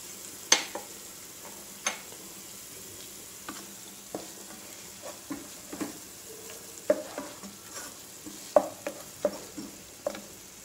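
Coconut masala with ginger garlic paste and onion frying in a pan for mutton curry: a soft, quiet sizzle broken by sharp spoon clicks and taps against the pan at irregular intervals.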